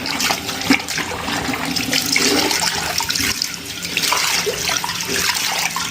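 Water splashes and runs continuously as a bleached item is rinsed under a tap, with irregular sloshing surges throughout and no voices.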